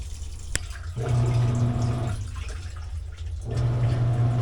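Water rushes into a washing machine being repaired after a busted air line, a steady hiss of filling in two bursts with brief pauses, then the flow cuts off.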